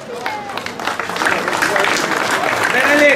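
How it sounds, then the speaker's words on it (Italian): Audience applause for race drivers at a slalom car race prize-giving in Oppido Mamertina, a short burst of dense clapping rising in loudness, heard alongside an announcer speaking over it. "Un applauso ai nostri piloti."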